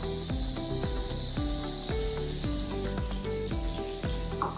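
Steady sizzling hiss of hot oil in a pan, about to receive mustard seeds, white sesame and curry leaves, close and continuous, with faint repeated clinks over it.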